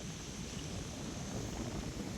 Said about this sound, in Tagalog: Yung puting puti na yan yung alon po yan, bali tumatama po sa sa bahura.